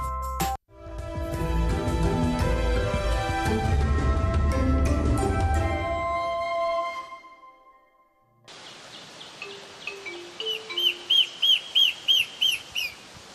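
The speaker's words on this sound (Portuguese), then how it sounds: "vive um pássaro que só existe neste lugar. O seu canto potente chama a atenção." An endemic forest bird from Jacareí, Brazil, living among vines and bromeliads, delivers a powerful song of rapid repeated whistled notes in a quick regular series, heard clearly on its own after a stretch of music.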